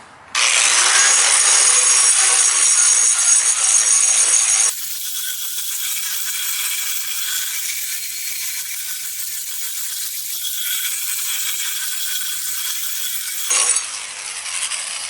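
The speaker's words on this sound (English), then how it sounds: "I'll grind first dry, and then I've got a hose here that we'll try some wet grinding." A 4-inch turbo diamond cup wheel on an angle grinder dry grinding concrete: a loud, continuous high whine and grinding roar that shifts in pitch as the load changes, close and alone.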